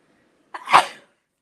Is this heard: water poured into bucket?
no